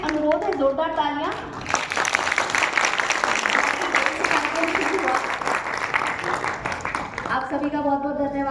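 Loud, dense applause from an audience at an Independence Day journalists' event in Hisar, swelling after a spoken request and continuing steadily for several seconds before talk returns at the end.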